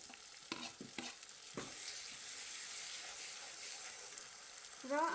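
Grated tomato drops into a pan of cooked cumin and is stirred, giving a steady broadband sizzle with a few scraping stir strokes near the start and end, close and fairly quiet, with no talking.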